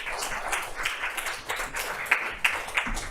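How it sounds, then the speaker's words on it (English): Audience applause at the close of a literary translation panel at a bookstore event, steady clapping from a room full of listeners with a few sharper nearby claps standing out, no talk over it. "One more round of applause for Anton, Parisa, and Jenna."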